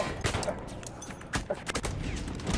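Battlefield 1 multiplayer gunfire, with dense, overlapping sharp shots and crackling reports in a busy battle mix, steady and moderately loud throughout, and no clear talk.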